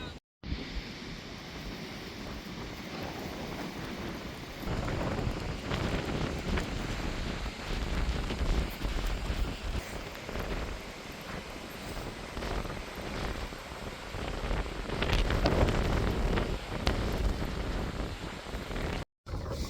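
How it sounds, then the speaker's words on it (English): Strong winter wind roars and buffets outdoors at a lakeside camp without a break, gusting louder at times, with rustling and flapping noises mixed in. "oh boy is it windy out there"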